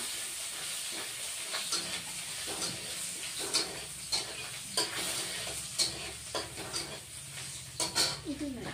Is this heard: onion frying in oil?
yes